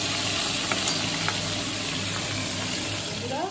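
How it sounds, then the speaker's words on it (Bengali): Pabda fish frying in hot oil, a continuous close sizzle with occasional small pops and a brief clink near the end, no talking over it. "মাছ ভাজা চলছে, এখানে পাবদা মাছগুলো ভেজে রেখে দিচ্ছি"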